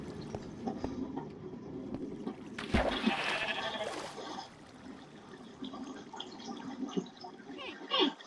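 A sheep in the video game Minecraft bleats in a short burst, heard over quiet game background noise and faint trickling.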